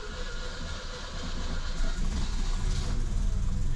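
A Mercedes W115 engine, choke set and in neutral, cranks on the key and catches. The steady mechanical churn swells into a louder, fuller running rumble partway through, close by and with no talking.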